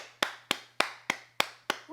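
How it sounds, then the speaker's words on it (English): Six sharp hand claps land in a slow, steady rhythm about a third of a second apart, loud and close over a low electrical hum, with no talking. "let's give ourselves a round of applause"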